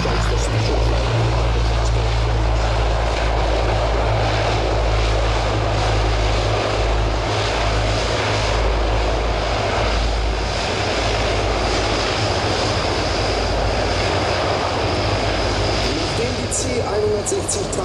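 A German Air Force Transall C-160 transport aircraft lands, its propeller engines producing a loud, steady drone with a low rumble that continues throughout, while a voice speaks over the noise.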